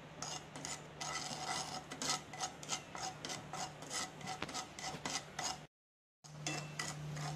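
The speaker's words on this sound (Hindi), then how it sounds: "नमक को भी भून के निकालना है" One teaspoon of salt is dry-roasted in a pan on low heat, a utensil rasping and scraping through it in quiet, continuous strokes, with a brief silent break near the end.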